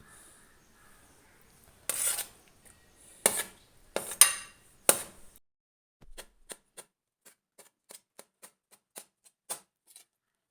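Vegetables being cut into long strips for a salad, a quick run of crisp chopping strikes followed by a steady series of sharp, evenly spaced knife taps on a board, close and fairly quiet with no voice.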